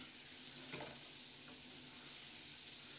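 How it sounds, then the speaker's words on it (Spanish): Paprika gently sautéing over very low heat while making vegetable soup, giving a soft, steady sizzle with faint stirring, quiet and close throughout. "Entonces hacemos con la paprika así, rehogamos un poco"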